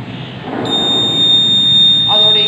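A heat-triggered fire alarm sounds a steady high electronic tone, close and continuous, over a low background rumble, with a second tone joining near the end.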